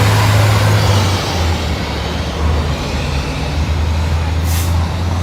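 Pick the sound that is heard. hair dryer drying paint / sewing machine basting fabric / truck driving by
truck driving by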